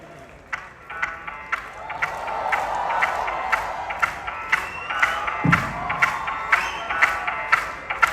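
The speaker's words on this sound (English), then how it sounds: "Guys, give a big round of applause for Elnaz to join us." A comedy show audience applauding and cheering as someone is invited on stage, with loud steady crowd noise, rhythmic clapping and shouts that swell, no clear speech.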